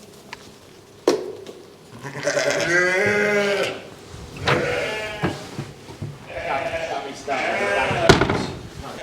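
Several sheep bleat loudly and repeatedly during lambing season, long wavering calls overlapping one another, close by with some background farm noise.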